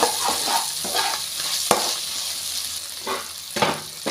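Sliced tomato sizzles in a hot pan with ginger garlic paste while being stirred, a loud, steady frying hiss broken by a few sharp spatula scrapes and bursts of spitting oil.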